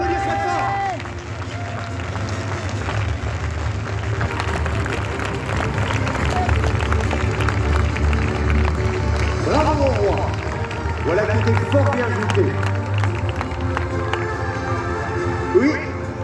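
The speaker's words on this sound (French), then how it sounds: "on peut l'applaudir très fort" A crowd claps and murmurs for the king after a knights' tournament at a castle show, Château de Talmont, with continuous applause beneath someone speaking loudly in character.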